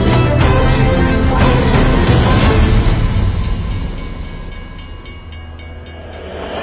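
A train crosses a bridge in Sri Lanka, a loud, close rumble of wheels and carriages that swells and then fades with rhythmic clicking as the cars pass, no voices.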